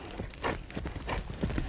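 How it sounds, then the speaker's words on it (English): A horse's hooves thud on the ground as it departs into a canter, a quick series of close, rhythmic muffled beats over about two seconds. "Look at that nice canter depart."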